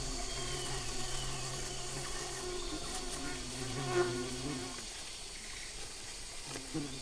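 A close, steady insect buzz drones on, rising and falling slightly, like bees hovering nearby; a voice talks softly underneath.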